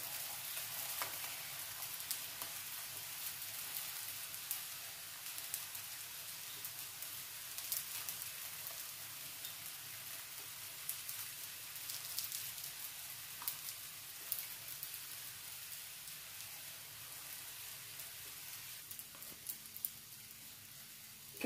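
A street-stall style omelette frying in a pan, heard as a continuous soft sizzle and crackle with occasional small clicks, steady and fairly quiet throughout with no talking.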